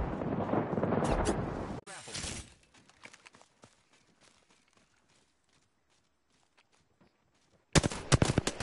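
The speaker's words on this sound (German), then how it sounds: "Oh, oh, Airstrike." Sharp bursts of airstrike explosions and gunfire in the video game Apex Legends, a loud rumbling barrage at the start, a quiet stretch with faint scattered pops, then another loud burst at the end.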